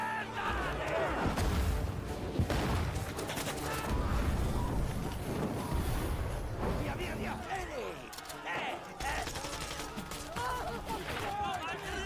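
A film battle in a forest with guerrillas firing on Nazi troops, with bursts of gunfire and booming explosions rolling continuously at a distance under a voice narrating over them.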